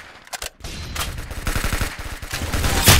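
Rapid video-game gunfire from an arsenal-style shooter, a dense burst of repeated shots building in loudness toward the end, with a sharp bright crack near the close and no talking.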